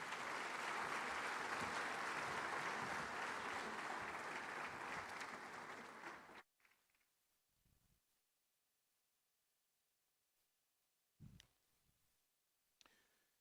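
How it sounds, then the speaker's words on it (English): A sustained round of audience applause at the Afreximbank Annual Meetings 2023, dense steady clapping for about six seconds that then stops abruptly, leaving near silence with a few faint knocks and thumps. "Another round of applause, please,"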